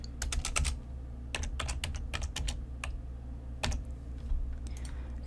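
Bursts of keystrokes on a computer keyboard while entering Excel VBA code for a UserForm list box, quick clustered taps with short pauses, close and clear over a low steady hum, no talking.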